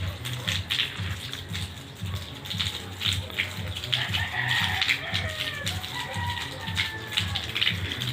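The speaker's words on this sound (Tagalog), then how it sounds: "sinampulan ko lang yung taklobo kung paano yung daloy ng tubig" Water runs continuously from a giant clam shell water feature beside a pool, giving a steady close splash and trickle. Faint voices can be heard underneath.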